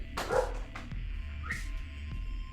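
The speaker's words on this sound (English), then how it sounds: "Or are you going to take it outside so you can bark?" A pet dog named Lilith, indoors, gives a few short yips and barks between whimpering sounds, fairly soft and close, with no talking.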